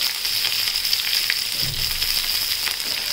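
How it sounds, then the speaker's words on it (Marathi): Garlic, curry leaves and green chillies sautéing in hot oil in a pan for tomato pithale, a steady close hiss and sizzle with faint stirring scrapes, alone without talk. "लसूण टाकूया. कढीपत्ता आणि हिरवी मिरची. आता हे छान परतून घेऊया."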